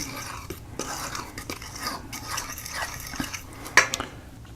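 A spoon stirs flour seasoned with salt and pepper in a bowl, giving light scraping and intermittent clinks against the bowl, close and fairly quiet, with no talking.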